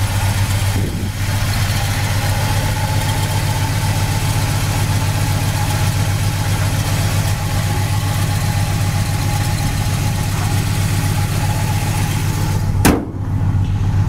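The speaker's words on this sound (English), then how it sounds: "the engine runs excellent" A 1971 Oldsmobile Cutlass engine runs steadily nearby, a deep, even idle rumble that carries on unbroken for the whole stretch, with a brief knock near the end.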